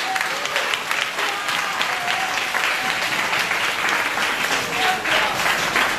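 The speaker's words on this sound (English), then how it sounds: "May I clap for big God." Audience applause at a staff meeting of an international school foundation, dense steady clapping from a crowd holding at an even level for the whole stretch, with voices mixed faintly underneath.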